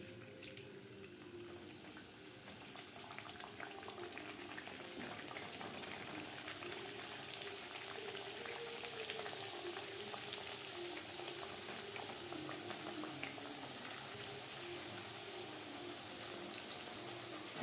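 Papdi frying in hot refined oil in a kadai over medium-low flame, a continuous bubbling sizzle at moderate level, close by and without speech.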